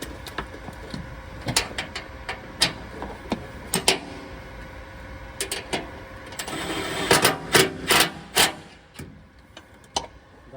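Wrench tightening the nut on a replacement lift motor for a Kandi Cowboy E10, a series of short ratcheting clicks and metallic taps, irregular then quickening, close and moderately loud.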